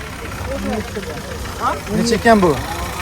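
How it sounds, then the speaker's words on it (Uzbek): A 2019 Chevrolet Gentra running on methane idles with a steady low engine hum, while people talk loudly over it at a car market. "Motor ishlashlarini qarang qanday toza."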